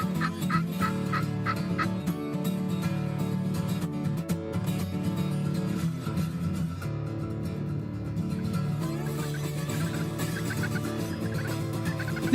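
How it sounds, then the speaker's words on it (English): A wild tom turkey gobbles repeatedly during spring turkey hunting, the loud rattling calls carrying steadily over about twelve seconds with no talking. "every time we had a tom responding, an old hen would get in the mix"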